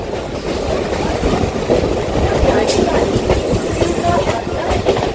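A train runs on the line between Lake Gardens and Tollygunge stations in Kolkata, a steady rumbling roar with rhythmic clickety-clack of wheels over rail joints, close and loud throughout.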